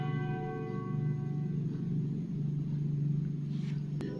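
A deep, sustained church bell tone hums steadily with rich overtones and a low rumble beneath it, continuous throughout with no voices.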